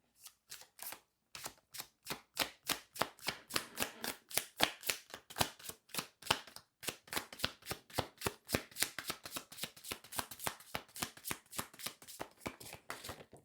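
Rapid riffling card shuffles, a long series of crisp flicking bursts in quick rhythm, with a brief pause midway, close and moderately loud.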